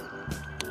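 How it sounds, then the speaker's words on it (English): An ambulance siren passing outside sounds as a brief steady wailing tone over a low background, with no speech. "Okay, that was the ambulance."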